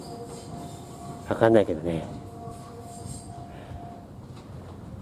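A picture book train runs near Joshu-Tomioka station, a brief rumbling burst with squealing wheel tones that quickly fades, over low outdoor background noise while a person speaks briefly.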